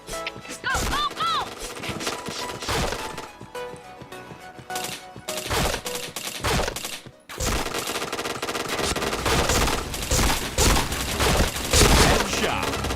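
Rapid gunfire in a shooter video game: dense bursts of automatic shots and sharp cracks with a short lull partway through, then sustained loud firing, while players talk over the action.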